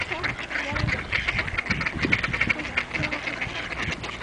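Swans and ducks crowd noisily while being fed in winter at the Siófok harbour on Lake Balaton, a continuous jumble of quacks and honks close by, with people talking underneath.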